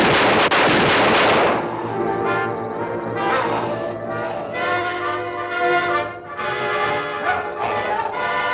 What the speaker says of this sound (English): a kindly old farmer sees him and takes a shot.